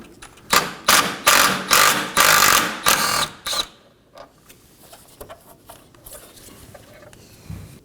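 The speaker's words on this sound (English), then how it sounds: "I'm going to start off by removing this bottom 10mm mounting bolt." A ratchet turns a 10mm headlight mounting bolt on a Nissan Maxima, giving a burst of about six loud, rhythmic clicking pulls followed by fainter, scattered ticks and handling noises.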